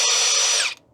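A power drill whines loudly and steadily as it bores a hole in a plastic trash can lid, then cuts off abruptly.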